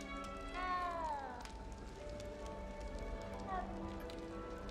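A cat meows twice in a Hogwarts Legacy game scene, a drawn-out rising and falling call followed by a shorter one, set against steady rain and ambient game sound.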